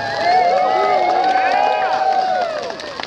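Wedding guests cheering in the rain as the couple arrives, a loud sustained mix of high shouts and whoops with voices talking over it, fading slightly at the end.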